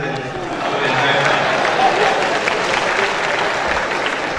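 An audience at a national conference session claps, a broad rush of applause swelling and holding with voices murmuring underneath.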